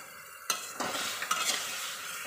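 Soaked chickpeas are tipped into a frying pan with a sudden hiss, then stirred with a utensil while they keep sizzling steadily. The sound is close, with a few scraping strokes and no talk.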